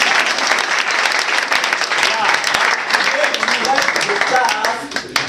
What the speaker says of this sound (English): clap your hand for us too